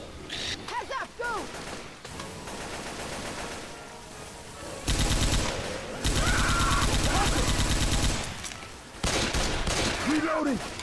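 Rapid automatic gunfire in the video game Left 4 Dead, dense sustained bursts that stop and restart, loud and close, with voices calling out over the shooting.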